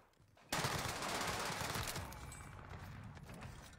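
Gunfire in a video game, a sudden loud burst after brief quiet that rolls into a dense rattling volley and then trails off into a lingering roar over several seconds.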